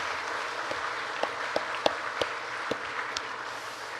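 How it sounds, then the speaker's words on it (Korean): A church congregation at a Sabbath service claps steadily for a few seconds, a dense patter of many hands with some louder individual claps standing out. "격려하고 축복하는 박수를 쳐드리면 어떨까요"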